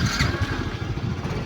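Yamaha Mio i 125 scooter engine starting and settling into a quick, rattly idle, heard close and steady with a faint clatter.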